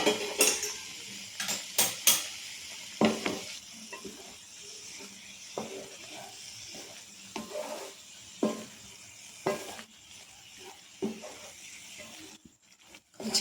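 Ash gourd halva thickening with strained jaggery syrup and cardamom powder is stirred in a pan, giving irregular scraping knocks and clinks of a spoon against metal, with quiet gaps between strokes and no talk.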